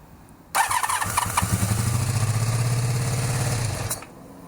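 Cafe racer motorcycle with a won't-start fault coughs to life after a short crank, then runs with a rough, throbbing idle for a few seconds before abruptly cutting out, close and fairly loud.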